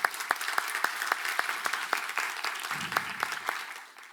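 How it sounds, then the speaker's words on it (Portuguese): Audience applause at a PHPStan tech talk event, a modest room of clapping with distinct sharp individual claps standing out, fading at the end. "Salve de palmas para o Arthur"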